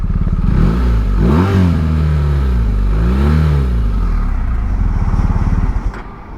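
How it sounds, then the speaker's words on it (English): A BMW boxer motorcycle engine revs loudly nearby, rising and falling in pitch twice before settling back to a throaty idle. "Boxer engine at its best."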